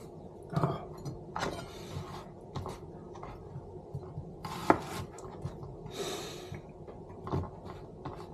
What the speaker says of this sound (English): we're going to be cutting the onions in strips